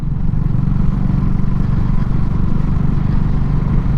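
A Honda CB250RS motorcycle rumbles steadily through town at low speed, its close, loud engine drone holding an even, unchanging note throughout.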